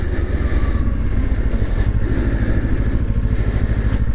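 A Kawasaki Ninja 500 motorcycle ridden during an ABS braking test, its engine thrumming loud and close in an even, rapid pulse under wind noise.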